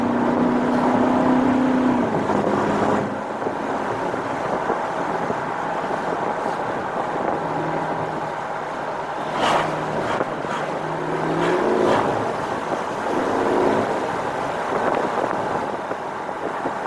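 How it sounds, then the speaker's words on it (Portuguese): A truck's engine rumbles steadily nearby on a road, its drone shifting as it approaches, with passing whooshes and brief rattles. "tem um caminhão vindo"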